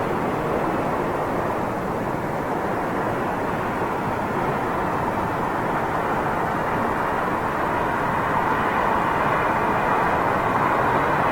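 A KLM Boeing 737 landing at London Heathrow Airport at sunrise, a loud, broad, steady jet roar that swells slightly toward the end, with no voices.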